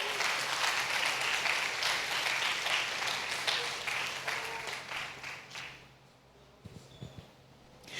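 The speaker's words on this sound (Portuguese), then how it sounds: "Pode aplaudir o Senhor." A church congregation applauding during a sermon: dense, fairly loud clapping from many people that fades out over several seconds, leaving a few faint scattered knocks and room noise.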